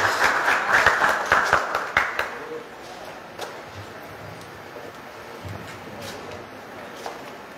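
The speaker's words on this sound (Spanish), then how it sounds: "un aplauso a Jesucristo, nuestro único Señor" Applause at a clinic's inauguration ceremony for a new hemodynamics room: a burst of brisk clapping for the first couple of seconds, then it fades into a quieter room with scattered claps and low background murmur.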